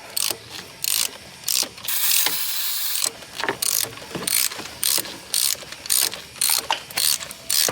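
A hand ratchet clicks in quick repeated strokes while a socket drives spark plugs into a Ford 5.4 Triton 3V engine, loud close bursts of rapid pawl clicking with brief pauses between strokes.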